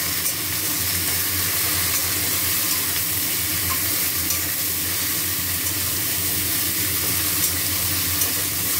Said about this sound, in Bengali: এটা খুব ভালো করে ভেজে নেব। সবজি ভালো করে ভেজেছি।